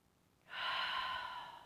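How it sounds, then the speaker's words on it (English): A person takes one slow, deep breath during a guided breathing exercise, a soft airy rush that starts suddenly and holds steadily, quiet and close, with no talking. "As deep as you can go, filling up your tummy and your lungs with air in through the nose and then out through the mouth."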